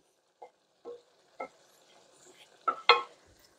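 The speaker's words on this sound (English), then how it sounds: "And stir all of that eggplant in." Eggplant being stirred into fresh tomato sauce in a pan for pasta alla Norma, heard as a few separate soft scrapes and clacks of a spoon on the pan, close and sparse against near silence.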